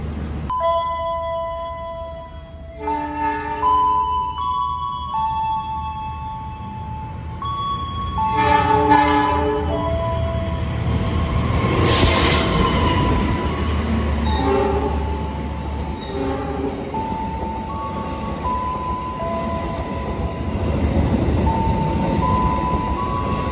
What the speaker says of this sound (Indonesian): Majapahit di sini juga menunggu disusul kereta Argo Bromo Anggrek dari Gambir menuju Surabaya Pasar Turi